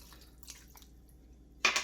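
A few soft drips, then a short, fairly loud splash as water is poured into a pot of beef bulgogi (sobulgogi).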